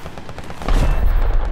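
Tank cannon and machine-gun fire in War Thunder, a loud low boom rising midway and sustained rumbling bursts through the second half, heard close with no talk.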